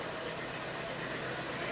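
A near-original MD tractor at an auction, with engine, transmission and clutch in great condition, runs in a steady, even idle with a constant low rumble and no voices over it.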